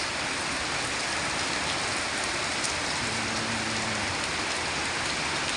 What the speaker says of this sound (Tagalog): sana tumigil na itong ulan ko guys ayan guys ayan malakas na siya